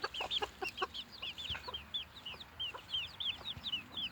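A small, timid hen clucks and squawks repeatedly in rapid, high, chattering calls with a few lower clucks, close by and fairly steady throughout.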